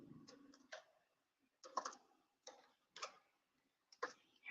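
Someone types on a computer keyboard in a quiet room. The keystrokes come as sparse, separate clusters of light clicks with pauses between the bursts.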